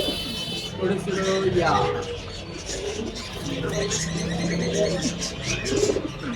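Pigeons coo in a bird shop in Tongi, with repeated soft, throaty calls and some chirping nearby while people talk over them.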